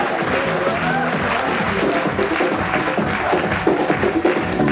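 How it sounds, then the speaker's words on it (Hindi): Dense audience applause fills a seminar launch event in Delhi, steady and loud throughout with scattered voices and background music mixed in. "लगता है ऊपर से तालियां कम लग रही हैं।"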